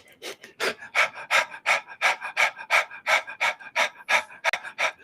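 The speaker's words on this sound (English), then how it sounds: "Exhale, breath of fire." Rapid, forceful rhythmic breathing of a breath-of-fire exercise, about a dozen sharp, close exhalations in a steady quick pulse, each a breathy burst, with no talk.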